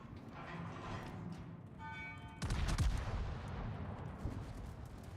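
Battleship secondary guns fire in a naval video game, a sudden heavy boom with a rumbling tail and scattered shots after it, over a constant background of game noise.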